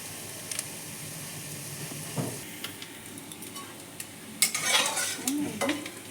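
Small mourala fish fry in hot oil with a steady, close sizzle, while a spatula scrapes and clinks against the pan in several sharp bursts as the fish are lifted out.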